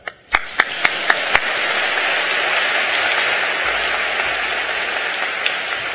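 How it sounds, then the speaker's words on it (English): Applause rises at a College of Arts and Sciences commencement ceremony. A few separate loud claps come first, then the crowd joins in with sustained, dense clapping that slowly thins toward the end. "This is a good time to clap for Emily."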